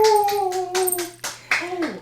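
A dog howling outdoors, long drawn-out wavering howls that rise and bend, broken by short pauses and breaths, loud and close.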